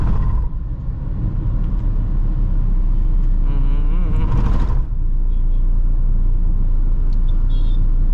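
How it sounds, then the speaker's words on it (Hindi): Heavy road traffic at the Thaltej underpass, a dense continuous rumble of car and bus engines with a passing vehicle swelling midway, loud and close throughout. "इतना ट्रैफिक हर बार का है ये, हर बार।"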